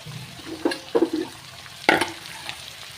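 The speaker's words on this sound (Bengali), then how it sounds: "যেটা বড় সাইজ করে কেটেছিলাম সেই স্প্রিং অনিয়নটা আমি এখানে দিয়ে দিলাম" Large-cut spring onions frying in a pan, a faint low sizzle punctuated by a few sharp stirring scrapes and clanks, close and intermittent.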